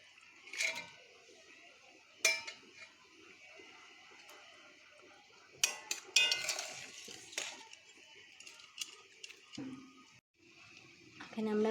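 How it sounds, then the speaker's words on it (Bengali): Pieces of pre-fried tilapia go into a pan for a curry, with a few sharp metallic clinks and scrapes of a utensil against the pan, separated by quiet stretches and a low background hiss. "এবার আমরা এতে ভেজে রাখা মাছগুলো দিয়ে দেব।"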